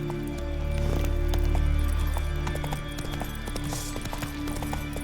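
A horse galloping in the video game The Witcher 3, with steady clip-clop hoofbeats close by and a rumbling low tone beneath them. The hooves keep a quick, even rhythm throughout.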